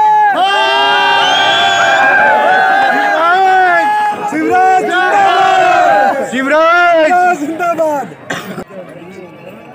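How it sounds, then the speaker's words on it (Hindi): A noisy crowd presses around a prized Marwari horse at the Rawal Mallinath livestock fair, loud overlapping voices shouting and chattering close by, tapering off near the end. "इस घोड़े को देखने के लिए चारों तरफ भीड़ लगी हुई है"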